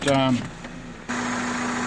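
A 2000 Toyota Camry engine settles into a steady, even idle hum after a brief voice, continuing alone at a moderate level.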